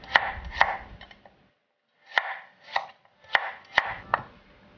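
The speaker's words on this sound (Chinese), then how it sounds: "趁着腌制的时间，切一些姜片、" Knife chops through slices of ginger and garlic on a cutting board, two quick cuts, a pause, then five more spaced thuds, close and clear with no voices.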